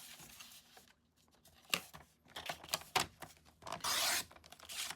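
Scrap card being cut up close, giving short scraping, rasping cuts in irregular bursts, including one longer louder stretch near the end.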